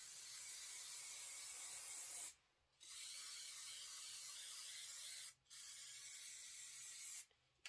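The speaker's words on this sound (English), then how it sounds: "I'm just going to spray the blue fabric part," Spray bottle misting blue quilt fabric: three long steady hissing sprays, close and fairly quiet, separated by brief pauses.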